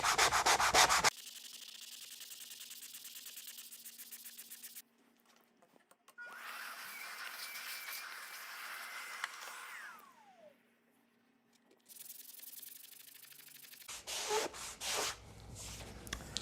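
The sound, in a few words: sanding wood with sandpaper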